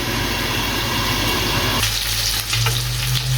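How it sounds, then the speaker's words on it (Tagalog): Chicken and pork adobo frying in a pan, oil popping and splattering in a dense steady sizzle that shifts midway as the pan is handled, with crackling pops over a continuous hiss. "Hinahinahan ko kasi pumuputok ko siya. Tumatalsik yung mantika."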